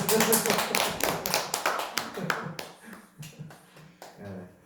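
A church congregation claps hands together in dense applause that thins into scattered claps over a few seconds.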